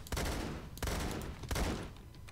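Rapid-fire 1,000 RPM shotgun in the Phantom Forces shooter, three loud close bursts of dense, blasting shots, each a short sustained roar, with no talk.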